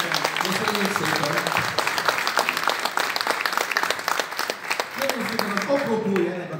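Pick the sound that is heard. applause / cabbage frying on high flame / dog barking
applause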